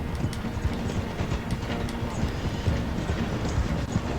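A moving train in Red Dead Redemption 2 slowing through a station, with a steady low rumble and rhythmic clatter of wheels and carriages, continuous and fairly close.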